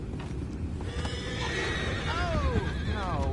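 Horses in the video game Red Dead Redemption 2 whinny close by, with a drawn-out rising and falling neigh over soft hoof clops and quiet background murmur.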